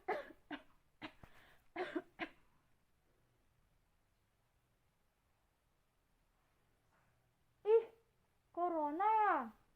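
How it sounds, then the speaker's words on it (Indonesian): A few short coughs in quick succession, then a long pause of near silence, followed by a brief vocal sound and wavering voiced noises. "jika ada orang lain yang batuk di dekatnya"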